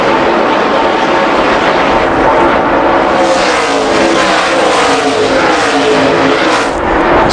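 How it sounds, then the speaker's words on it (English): NASCAR race cars at speed during the 2005 Salute To The Troops 250 make a loud, continuous engine roar that swells and drones steadily throughout, with no pause. "Now Kenny Wallace and Truex closing on Yaley for 2nd."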